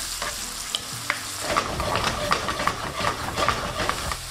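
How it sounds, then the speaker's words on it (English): Onions, garlic and tomatoes sauté in a pan for loaded fries, with a steady close sizzle and frying hiss and repeated scraping stirs throughout. "Give that a mix and you want to lightly saute this"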